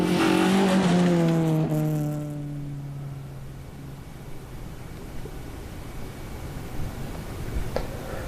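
A rally car at the Lombard Chepstow Rally Festival roars loudly past while cutting across grass, its engine note dropping as it moves away, leaving a fading rumble and distant noise.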